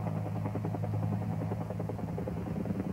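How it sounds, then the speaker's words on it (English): A helicopter flying on a remote resupply mission gives off a steady, throbbing rotor drone with a low engine hum, continuous and moderately loud, with no one speaking. "Resupplying to remote locations is a natural mission for helicopters."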